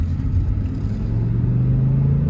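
A 2007 BMW M6 accelerating from inside the cabin, a steady low engine drone with a rising tonal hum that climbs in pitch as speed builds, continuous and fairly loud with no talk.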